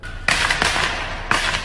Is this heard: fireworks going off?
yes